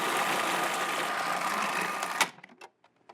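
An electric mixer beats eggs, a steady close motor whir with beater rattle that stops abruptly, followed by a few light knocks and clatters.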